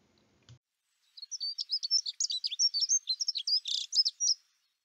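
Dunnock song: a single bird delivering a rapid, thin, high-pitched warbling phrase of quick jumbled notes, clear and close against silence, after a soft click at the start.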